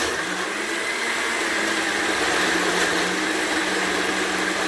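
A blender runs steadily on a green tea smoothie, giving a loud, continuous motorized whir with grinding churn that holds without break from start to finish.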